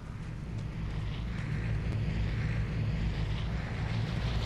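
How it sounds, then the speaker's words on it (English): Airplane flying over the map in the battle royale game Vigor, heard as a steady broad engine drone with wind-like rushing, fairly quiet and continuous, with no voices. "Oh, that's an airplane. Airdrop incoming."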